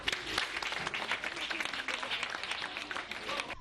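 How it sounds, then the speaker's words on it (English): An audience at a vaccination awareness gathering in Africa claps in a brisk, uneven burst of applause that carries on for several seconds at moderate loudness. "Clap for him."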